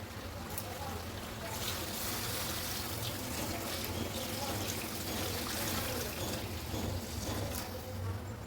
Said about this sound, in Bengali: যেহেতু পাতলা ঝোল করবো তাই পানিটাও বাড়িয়ে দিয়েছি